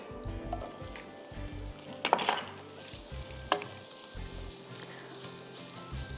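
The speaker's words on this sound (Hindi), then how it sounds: "हम हल्का सा इसको सौते कर देते हैं ताकि दाल और आलू में इसका टेस्ट आ जाए।" Boiled dal and potato sautéing with spices in a pan, a steady soft sizzle with a few sharp clinks of a spoon against the pan near the middle.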